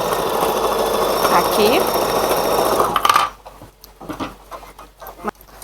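An electronic embroidery machine sews a safety stitch, giving a steady rapid mechanical whir and needle chatter for about three seconds before stopping abruptly. A voice speaks briefly afterwards amid quieter handling sounds.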